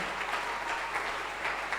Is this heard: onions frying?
no